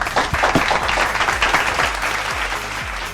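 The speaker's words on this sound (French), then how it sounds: "On applaudit quand même." Studio audience applause during the season finale of a women's television show featuring a dance group, a thick wash of clapping with a few low thumps, steady and fairly loud, fading slightly toward the end.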